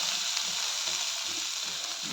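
Dried shrimp and flat beans with coriander leaves fry and get stirred in a hot pan, giving an even, soft sizzle with faint scraping stirs underneath.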